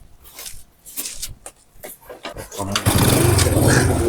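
Motorcycle engine starting: a few seconds of quiet shuffling and knocks, then the engine catches and roars loud and close, running steadily to the end.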